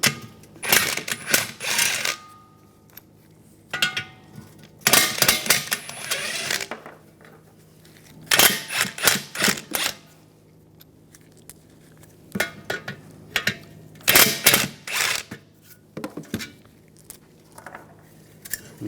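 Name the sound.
socket wrench removing heat shield bolts with 12mm socket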